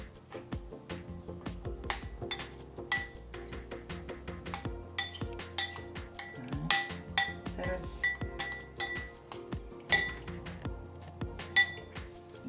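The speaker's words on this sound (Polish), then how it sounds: "Troszkę dajemy, czyli łyżeczkę bułki tartej. wszystko musimy wymieszać." A spoon clinks and scrapes against a bowl while blueberry pierogi filling is mixed with a spoonful of breadcrumbs, giving irregular close taps and knocks that grow busier toward the middle.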